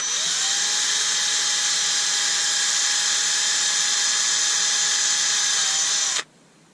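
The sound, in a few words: power drill drilling hole in wood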